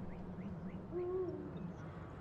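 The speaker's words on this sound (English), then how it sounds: "I like barn owls." A barn owl in the video game Life is Strange gives one brief, moderately loud hooting call over a steady low ambient background, with faint chirps scattered around it.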